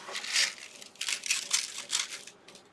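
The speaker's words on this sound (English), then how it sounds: "So it just needs sanding now," Sandpaper works over a turned wooden capsule box on a lathe, a series of short, scratchy, rasping strokes in an uneven rhythm, fairly close and without talk.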